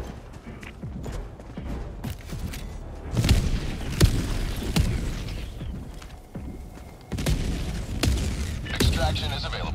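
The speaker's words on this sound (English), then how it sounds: "Orbital barrage incoming." Orbital barrage in Helldivers 2 lands as a string of heavy booms and thuds at irregular intervals, some close and loud, with crackling debris and mechanical clatter between impacts.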